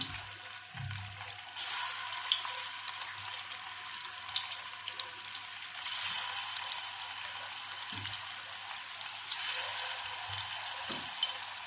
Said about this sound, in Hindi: ये मेरा ऑयल गर्म हो गया, अब मैं इसके अंदर इसको फ्राई करूँगी।